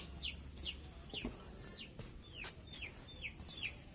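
Chickens in a freshly cleaned coop give a run of repeated short descending peeping calls, evenly spaced about every half second over a steady background hum, fairly faint and without talk.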